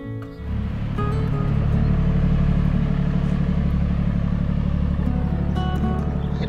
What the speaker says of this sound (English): It's a mini tractor.